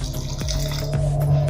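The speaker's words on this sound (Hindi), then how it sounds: "अब इसमें हम पानी डालेंगे" A steady stream of water runs and splashes into a container of ground moong dal and yogurt, continuous and close, with a faint clink near the start.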